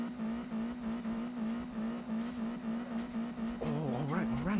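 A video game car's engine revving hard through a clutch-kick drift, a steady high drone wavering with throttle, pitch swooping and climbing near the end, with faint tire noise underneath.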